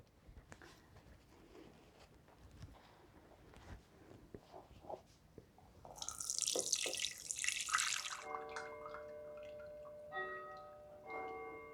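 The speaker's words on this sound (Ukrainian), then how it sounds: "тепер я переливаю рідину назад в каструльку" Pepper brine is poured from a jar back into a saucepan in a kitchen, a close splashing pour of liquid after some soft clinks and handling noises, ending with faint ringing tones.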